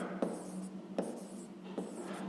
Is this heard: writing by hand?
yes